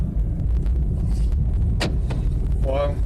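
A car rolls slowly along a country road, a steady low engine and road rumble running throughout with brief clicks and a short whine near the end; some speech is mixed in.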